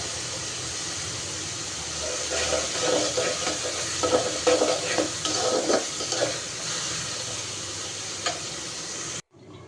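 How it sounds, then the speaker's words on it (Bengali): Chopped garlic and onion frying in a pan, a dense, even sizzle close up that swells with stirring in the middle and stops abruptly just before the end. "এখন আমি রসুন কুচি আর পেঁয়াজ কুচি দিয়ে ভেজে নিচ্ছি।"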